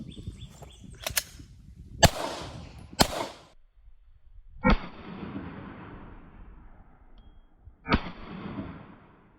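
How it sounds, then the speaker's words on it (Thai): Gunshots fired one at a time at a 12-yard range, five sharp separate cracks spaced a second or more apart, each trailing a short echoing decay in an otherwise quiet setting. "ยิงในระยะ 12 หลา เดี๋ยวจะทำการยิงทีละนัดนะครับ"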